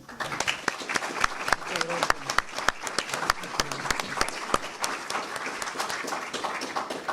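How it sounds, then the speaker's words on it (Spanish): An audience at a forum applauds, producing dense, steady clapping that carries on evenly for several seconds. "¿Le damos un aplauso?"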